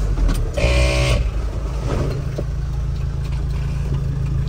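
A car horn honks loudly for about half a second over the steady rumble of a nearby passing car.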